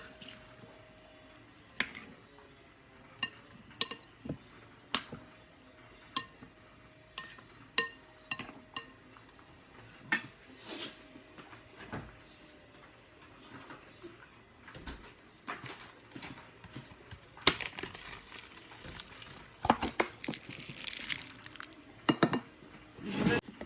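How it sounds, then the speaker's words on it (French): A green bean salad being gently mixed in a bowl with a utensil, giving scattered soft clinks and squishy scrapes at an irregular pace, close up and fairly quiet, with no one speaking. "Je ne veux pas trop mélanger pour écraser l'haricot vert"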